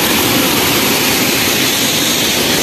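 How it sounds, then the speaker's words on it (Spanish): Waterfall cascading into a deep pool, a loud, steady, broadband roar of falling water that continues without change throughout. "esta cascada donde cae el agua tiene profundidad de 13 metros"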